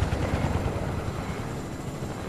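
A helicopter in the video game Fortnite gives a loud, steady rotor and engine roar that stays close and constant throughout, with no speech over it.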